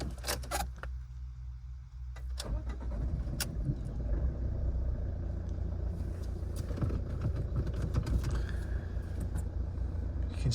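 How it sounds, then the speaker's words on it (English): A Ford car engine cranks after a few clicks and catches, then settles into a steady, close idle rumble that runs on alone. "we'll start the car up."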